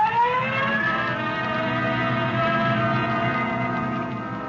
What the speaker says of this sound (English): Code 3, red light and siren.